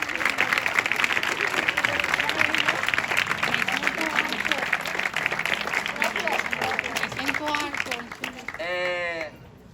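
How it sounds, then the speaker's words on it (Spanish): An audience claps at the opening of a community zone in Santiago, dense sustained applause mixed with voices and cheering, fading near the end into a brief voiced call. "un aplauso para todos y para todas"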